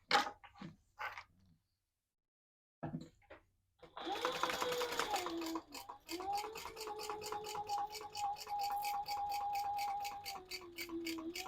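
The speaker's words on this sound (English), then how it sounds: "we're going to sew those together at the seam allowance in the pattern" A sewing machine stitches the seam of a crossbody bag, running in steady rapid bursts with short pauses and a brief whine, fairly close. Some handling noises precede it.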